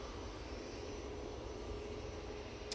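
Ryanair jet airliner taxiing back to its stand at Manchester Airport, a steady distant engine whine and rumble, faint and continuous with no talk.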